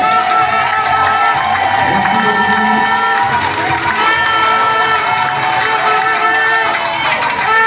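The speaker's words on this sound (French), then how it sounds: "S'ils sont là, ils peuvent se tenir debout. On va s'acclamer s'il vous plaît." Wedding guests cheer, shout and whoop loudly for the bride's parents, a dense continuous crowd roar with children's voices and scattered applause filling the whole stretch.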